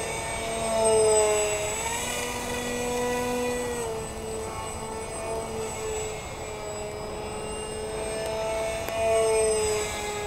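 A radio-controlled EF-2000 model jet flying slow circles, its steady high whine holding continuously with gentle pitch shifts as it banks, loud and fairly close throughout.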